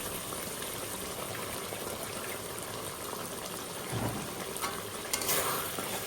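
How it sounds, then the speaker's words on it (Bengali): Mustard oil goes into a pan for a vegetarian jackfruit curry, giving a soft, steady liquid hiss and faint sizzle, with a brief louder splash near the end. "পাতলের ভিতরে আমি কিছু সর্ষের তেল দিলাম"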